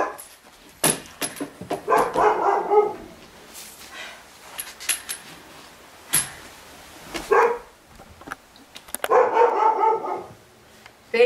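Several dogs locked in an upstairs bedroom bark in bursts, muffled and somewhat distant, with short yips between irregular volleys and quiet gaps.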